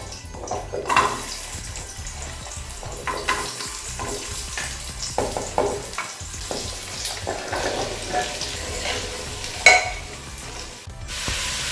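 Chopped carrots frying in ghee inside a pressure cooker, an even sizzle broken by repeated scraping stirs and clinks of a spoon against the metal, close and fairly loud, with no talk.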